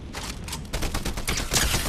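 Rapid gunfire bursts in a competitive duo shooter match on a PS5 console, dense overlapping volleys firing steadily for about two seconds with no talking.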